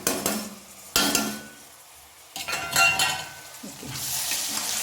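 Onions with ginger, green chili, crushed garlic and curry leaves sautéing in a pan for a chicken dish, a steady close sizzle broken by a few sharp scrapes and clatters of a spoon against the pan.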